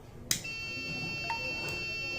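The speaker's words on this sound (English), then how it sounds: "The buzzer is set to buzz for a few seconds" An IoT flame sensor alarm buzzer sounds as a continuous high electronic tone after a sharp click, holding steady for a couple of seconds over faint room noise.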